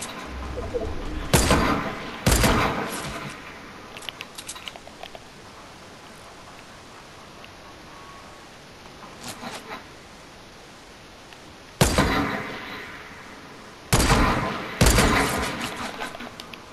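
Gunfire in a video game sniping match comes as a few sharp, loud bursts of shots in clusters, separated by quieter stretches of ambient background noise.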